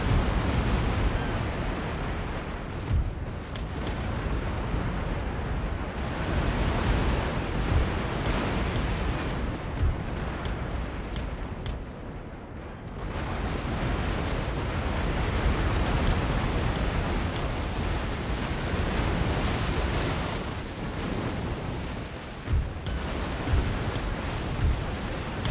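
Naval cannon broadsides in Napoleon: Total War, a dense, continuous barrage of booming shots rolling over one another for the whole stretch, with brief dips before the heavy firing resumes.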